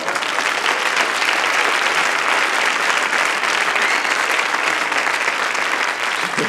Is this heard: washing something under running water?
no